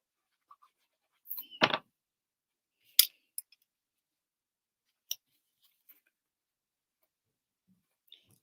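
Scissors trim card paper for a handmade card in a quiet room: one longer crisp snipping cut, then a few short isolated clicks and snips spaced apart.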